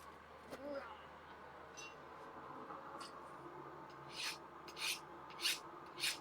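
A hardened steel chisel rasps across a file in four short, bright strokes that slide and skate rather than bite, following quiet background noise.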